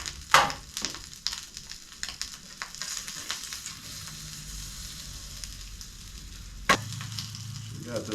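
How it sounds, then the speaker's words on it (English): Possum meat frying in oil and butter crackles quietly and unevenly, with scattered pops and clicks and one sharper utensil clank near the end. "So we got this possum cooking up in this oil."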